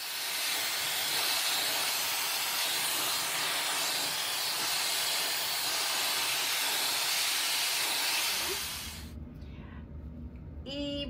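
A hair dryer blows a loud, steady hiss over hair for about eight seconds, then switches off and leaves quieter room sounds.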